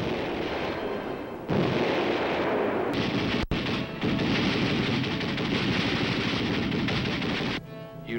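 Infantry weapons fire at an army training range, with dense, loud bursts of gunfire in long sustained stretches broken by brief gaps and a sharp cutoff near the middle.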